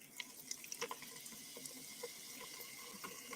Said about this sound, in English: And we're going to pour.